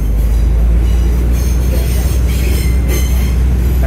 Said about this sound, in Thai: นี่รู้สึกว่ารถจะเข้าจอดสถานีหัวตะเข้นะ